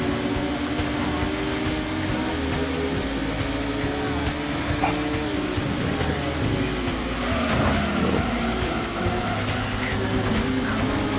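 A race car in Gran Turismo holds a high-revving engine drone near an 8,500 RPM redline, with tire noise and other cars close by, steady and loud throughout.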